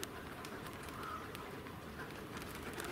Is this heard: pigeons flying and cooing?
yes